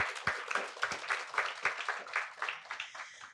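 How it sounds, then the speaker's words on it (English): A crowd claps steadily for several seconds, a dense patter of many hands at moderate loudness, with no voices over it. "give yourselves a round of applause"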